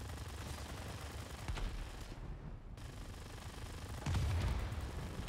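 Aerial gunfire from a P-51 Mustang in a combat flight video game: a dense, continuous stream of rapid shots over a steady engine roar, with a heavier burst near the end and no voices.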